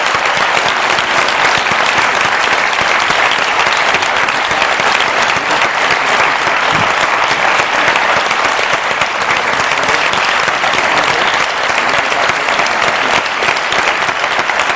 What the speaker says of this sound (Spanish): un aplauso para los candidatos